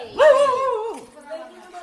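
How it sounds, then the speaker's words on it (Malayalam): A nearby street dog in Vellore lets out one drawn-out, yelping bark that tails off into a quieter whine. "പട്ടി തന്നെ, എല്ലാ പട്ടികളും എൻ്റെ പുറകെയാണല്ലോ"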